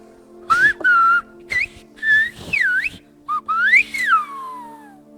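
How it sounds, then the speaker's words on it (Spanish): A sequence of loud, clear whistles with rising and falling glides forms a phrase of Silbo, the Canary Islands whistled language, several distinct bursts separated by short pauses, close by. "¿Me podrías hacer o decir alguna frase con el silbo?"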